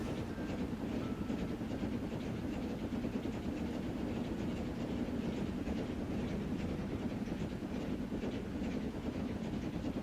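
Train rolling along rails in a transport-management video game set in Yorkshire, a continuous low rumble with a steady rhythmic clatter that holds evenly throughout, with no talking.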